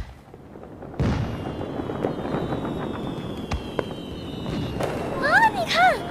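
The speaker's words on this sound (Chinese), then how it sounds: "是谁在今天放烟花？" Fireworks burst outdoors at night by the sea. There is a thud and a boom, then scattered crackles and bangs against a steady background, with whistling rises near the end, at moderate distance.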